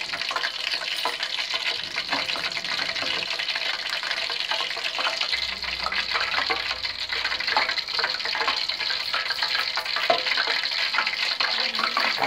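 Water pours steadily into a pot in a continuous gushing stream, fairly close and uninterrupted for several seconds.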